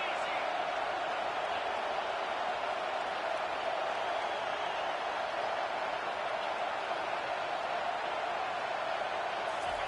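A loud football stadium crowd roars steadily as it tries to help its defense, a dense and unbroken wash of noise that holds for the whole stretch.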